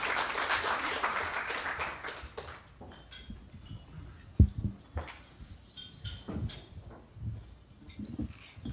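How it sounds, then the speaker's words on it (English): A round of applause for a school superintendent at a debate event, fairly light clapping that fades out after a few seconds, followed by scattered knocks and handling noises in a quiet room. "please give our superintendent with Manatee County Schools a round of applause"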